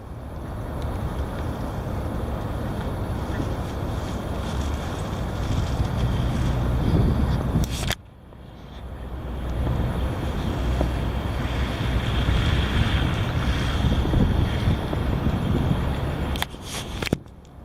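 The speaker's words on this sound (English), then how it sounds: "Here it is. The heavy wind." Heavy wind blowing in a steady, loud broadband roar against the microphone, with a brief drop near the middle before the gusting roar builds again, no voices present.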